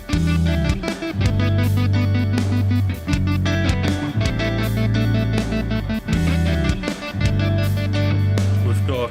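Distorted guitar loops played through a pedal board with a stutter effect, heavy chopped phrases that cut out and restart in a repeating rhythm, loud and close.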